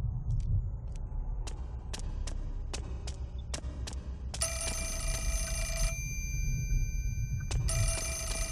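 A telephone rings in the horror video game Fatal Frame 4: Mask of the Lunar Eclipse, with two bursts of electronic bell tone over a low, throbbing ambient hum and faint clicking.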